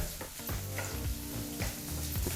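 Finely chopped onion with fennel and kasuri methi frying in oil over a medium flame, a steady close sizzle broken by repeated scraping stirs of a spatula.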